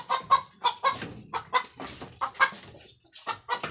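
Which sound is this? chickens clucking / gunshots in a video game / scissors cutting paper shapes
chickens clucking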